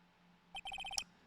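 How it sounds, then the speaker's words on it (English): A phone in the Phoenix Wright: Ace Attorney - Justice For All video game plays a short electronic ringtone of rapid evenly spaced beeps. The beeps sound clear and alone after brief quiet, and the tone is repeated several times. "And what is this stupid sounding ringtone?"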